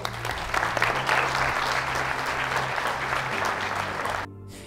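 A real estate event audience claps for themselves, a dense, loud burst of many hands with a low musical hum underneath, then cutting off abruptly near the end.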